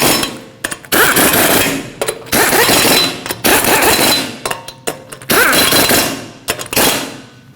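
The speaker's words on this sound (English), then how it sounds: "torque them to 76 foot-pounds" A power tool works the wheel lug nuts on a Toyota Corolla during a rear caliper replacement, firing in loud, harsh bursts of a second or two separated by short pauses, with no talking.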